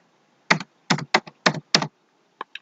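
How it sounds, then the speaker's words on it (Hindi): Several sharp, close keystrokes on a computer keyboard come in quick bursts and pairs, then two lighter taps after a short pause, with no talking. "एंड बटन अपने कीबोर्ड से प्रेस करना है। जब आप एंड बटन प्रेस करोगे उसके बाद आप एंटर करोगे"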